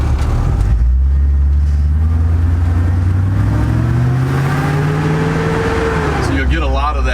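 An LS-swapped truck engine fitted with a Howard's Rattler cam idles loud and close with a choppy rumble, then revs up and falls back, with a voice briefly heard at the end.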